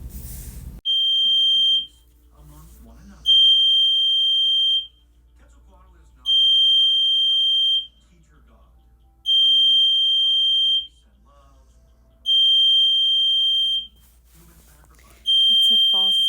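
Hotel fire alarm sounding in a room, a loud piercing electronic tone repeating in regular on-off pulses of about a second and a half, with a low rumble underneath.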